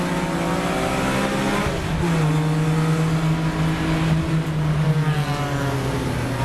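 Saloon race cars race at Cadwell Park, their engines droning loudly and steadily with a rising, sustained note throughout, no voices over the sound.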